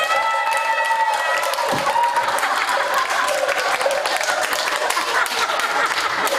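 Loud, dense applause fills a Buddhist temple eye-opening ceremony in Changwon, steady clapping from a sizable crowd after a lingering chant or bell-like tone fades at the start.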